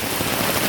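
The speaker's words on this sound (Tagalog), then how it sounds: "Nakalakas yung ulan, ma'am, oh." Heavy rain pours in a dense, loud, steady hiss of drops on surfaces, continuous across the short moment with no voices.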